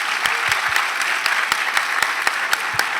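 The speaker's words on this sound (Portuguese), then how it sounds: "Salva de palmas para o Arthur" Audience at a Brazilian conference on digital influence and leadership applauds a guest, a dense, steady wash of many hands clapping, fairly loud and even for the whole stretch with no voices.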